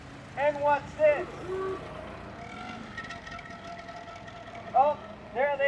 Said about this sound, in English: Oh, there they are, the Ford Model Ts.